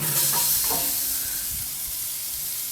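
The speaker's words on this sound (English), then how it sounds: "Hear the sizzle. See that? Nice sizzle." Ribs sizzle and hiss steadily on a hot Lang 36 Patio Model smoker grill, a dense crackling that stays close and fairly loud throughout with no voices.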